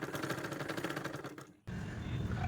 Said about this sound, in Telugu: ఫైనల్గా పై వైపున టాప్ స్టిచ్ వేయాలి